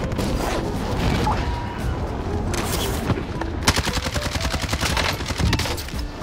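Rapid automatic gunfire from a CR-56 AMAX assault rifle in Warzone, with dense bursts of shots and booms going off close and loud throughout, a burst near the middle standing out.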